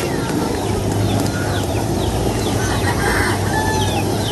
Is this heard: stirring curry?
no